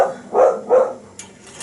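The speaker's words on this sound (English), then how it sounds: "Lady's barking." Lady, a dog in a home kitchen, barks twice in quick succession, close and fairly loud, followed by a faint knock.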